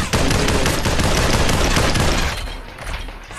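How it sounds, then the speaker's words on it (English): Dense rapid gunfire in the VR battle royale game Population One, a loud sustained volley of overlapping shots that thins and fades after a few seconds. "they're shooting it"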